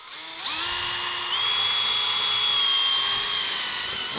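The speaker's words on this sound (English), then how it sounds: "We take a drill and an airplane rivet shaver. So we drill a hole." A high-pitched power drill fitted with an airplane rivet shaver drills a hole in a recovery board, whining steadily, its pitch rising as it spins up and then holding a sustained tone close by.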